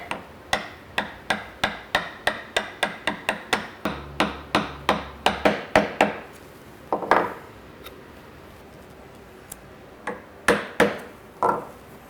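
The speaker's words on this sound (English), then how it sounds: "what I'm going to be doing is just tapping down on this and watching as the chisel descends down the marking gauge" Mallet tapping a chisel down a marking gauge line in wood while cutting a mitred dovetail joint, a rapid run of about twenty sharp even knocks, then scattered single taps after a pause, close and clear.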